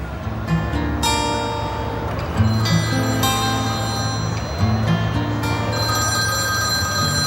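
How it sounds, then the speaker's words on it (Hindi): A telephone rings with repeated electronic trills over a steady, loud backdrop, with no talk, in a dubbed Turkish drama scene. "एक मिनट, मुझे फोन उठाना है।"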